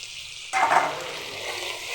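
Tomato dropped into spice masala frying in oil, quiet at first, then a sudden loud burst of sizzling that settles into a steady hiss.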